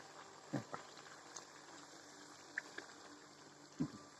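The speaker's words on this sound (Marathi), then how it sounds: "जितके बसते तेवढे तेलामध्ये सोडायचे आता माझ्याकडे चार बसले" Potato sabudana vadas fry in hot oil, four at a time, giving a quiet, steady bubbling with a few soft clicks and taps scattered through it.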